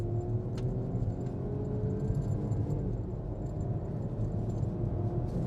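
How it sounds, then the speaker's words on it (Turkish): A 2023 Peugeot 408 accelerates hard in sport mode, a steady, loud low rumble of engine and road noise heard from inside the cabin, with faint rising engine tones and occasional light rattles. "Hemen gaza basıyorum. İlk tepkisi hızlı değil ama gayet iştahlı hızlanmaya başladı."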